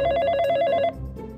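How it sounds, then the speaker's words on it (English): A telephone rings in a Minecraft FNAF roleplay, a loud, close, rapid warbling bell trill for just under a second that cuts off into low background noise. "the phone's ringing"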